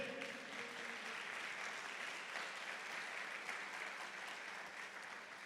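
A church congregation breaks into steady, sustained applause that fills the room at an even level throughout, with no voices rising above it.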